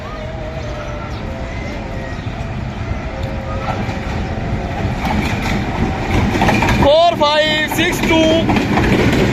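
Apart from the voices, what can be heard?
Tezgam Express train passing through Badami Bagh railway station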